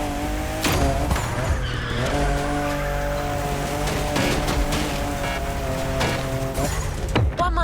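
In the racing game The Crew Motorfest, a car drifts with a sustained engine roar and squealing tires, loud and steady throughout, with brief skid screeches rising and falling.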